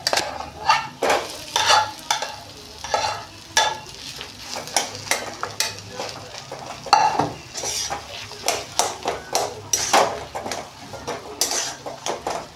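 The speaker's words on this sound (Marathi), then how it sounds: "आता हे बटाट्याचं जे सारण आहे ते टाकून पुन्हा एकदा फ्राय करून घेऊ चांगलं." Spiced potato filling for a veg sandwich frying in a pan, with a constant sizzle beneath frequent sharp metal spatula scrapes and clinks against the pan, close and fairly loud.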